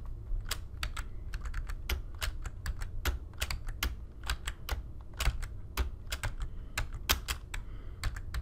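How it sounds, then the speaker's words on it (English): Computer keyboard keys, the arrow keys in audiology testing software, pressed in a steady run of sharp separate clicks, close and clear over a low hum, with no talking. "all you do is hit the right or left arrow keys to change frequency"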